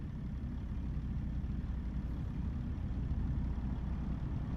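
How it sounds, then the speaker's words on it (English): Steady low truck engine idle from a truck driving simulator game, a continuous even rumble with no change in pitch or level, heard alone without talk. "I couldn't get the engine sound to sound good"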